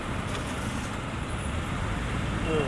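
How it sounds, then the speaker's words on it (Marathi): Steady Pune city road traffic rumbles nearby, a continuous wash of engine and tyre noise without clear individual vehicles. "भयंकर ट्रॅफिक पुण्यातलं"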